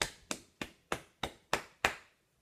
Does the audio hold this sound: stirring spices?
no